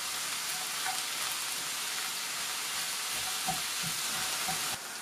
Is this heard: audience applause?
no